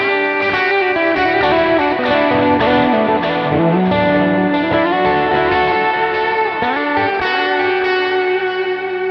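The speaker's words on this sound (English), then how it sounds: "You can kind of hear that initial punch and then the kind of dissolving of the reverb." Electric guitar played through a heavy effects chain with reverb pre-delay, each note striking with a clear attack before a wash of reverb swells and fades behind it.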